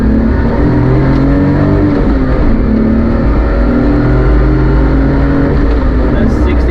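A Daihatsu Midget engine drones loudly and steadily up close as it pulls forward, rising slightly in pitch, with a voice faintly audible beneath.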